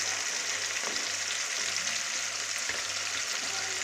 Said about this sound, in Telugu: అల్లం పేస్ట్ పచ్చివాసన వరకు పోయే వరకు వేగాలండి